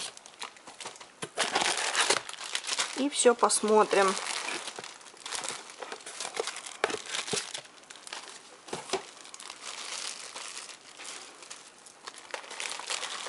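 Plastic packaging bags crinkle and rustle up close as a woman unpacks an online order of embroidery supplies and organizers, the crackling bursts continuing throughout while she talks.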